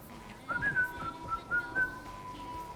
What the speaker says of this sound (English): Whistle while you cook.